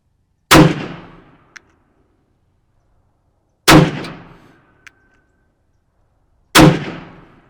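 Three loud, sharp shots from a Walther WMP .22 Magnum pistol fired at a target, spaced a few seconds apart with brief ringing decay, plus small metallic clicks between them.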